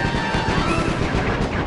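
Gunfire in the Sly 3 video game canoe chase, rapid crackling shots in a steady dense stream, loud and close throughout, with a faint tonal hum underneath.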